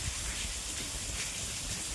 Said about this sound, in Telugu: It is raining since from 1 hour.